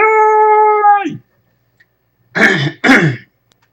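Someone with throat congestion clears their throat twice in a livestream, two short rough bursts coming after a steady tonal sound fades out.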